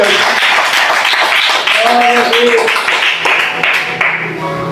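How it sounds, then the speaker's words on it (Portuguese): A church congregation claps in a dense, steady burst of applause, with a few voices calling out underneath. "Palmas para ele novamente."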